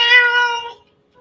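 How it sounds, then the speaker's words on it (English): A single clear, loud cat meow sounds close by, held for under a second and then fading to silence. "Oh, the kitty."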